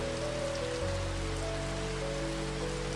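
Steady rain falling on a surface, a dense even hiss with no voices, continuing unchanged from start to end.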